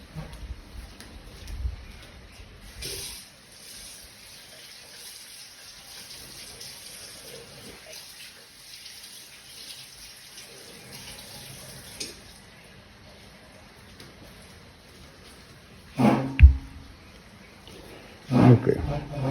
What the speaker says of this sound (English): I quickly want to rinse razor and stones